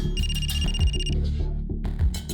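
A telephone rings in a police control room during a crime drama, a steady repeated electronic ring running through most of the short stretch over background music and low noise.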